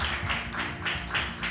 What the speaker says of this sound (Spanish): Y le damos un aplauso